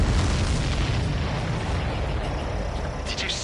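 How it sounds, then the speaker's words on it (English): A supply ship blows up in the Ace Combat 7 video game, a loud, sustained low rumbling boom that fills the whole clip with a steady roar and fades slightly toward the end. "Did you see that explosion? Looks like that's one of them down."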